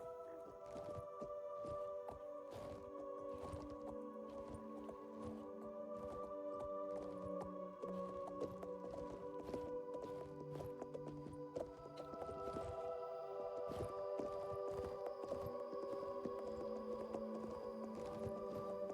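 Hoofbeats from a horse ridden in the video game Oblivion, a quiet run of regular clopping steps under sustained tonal game music that fills the whole passage.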